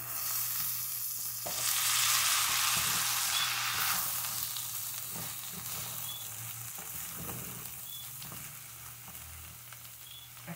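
Corn sizzles in a pan with calabresa sausage, a steady close frying hiss that swells after it goes in, then settles to a softer crackle, with a few light stirring scrapes and no talking.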